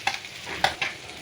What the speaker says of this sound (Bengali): দিয়ে দেবো আদা রসুন বাটা, একটু কষিয়ে নিতে হবে।